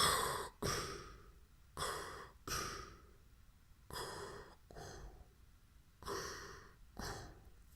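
A voice mimics Darth Vader's mechanical respirator breathing, in eight slow, loud alternating inhale-and-exhale hisses with brief pauses between them, close to the microphone and with no talking.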